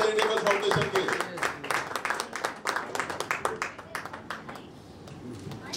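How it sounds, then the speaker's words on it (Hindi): Lively audience applause greets guests at a Moon Charitable Foundation Women's Day event, many hands clapping together in a dense, continuous patter that gradually thins toward the end. "जोरदार तालियों के साथ स्वागत करेंगे।"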